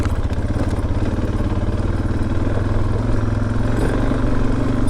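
Enduro motorcycle riding a Yukon trail, its engine a steady, loud, close drone with a chugging low rumble throughout and faint rattling, no voices.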